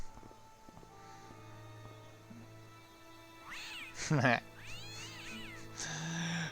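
A grumpy cat in the video game Broken Sword: Shadow of the Templars gives a few drawn-out, complaining meows in the middle of the scene, against quiet game ambience and nearby voices.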